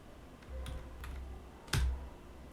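A few keystrokes tapped on a computer keyboard while entering a number, soft, close clicks spaced out against a quiet background.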